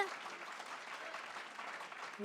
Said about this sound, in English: let's give her another round of applause, Rihanna Dixon